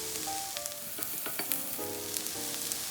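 Chopped garlic sizzling in hot oil in a pan for chicken kaldereta, a steady crackling fry with occasional sharp pops and light clinks of a utensil, no voices.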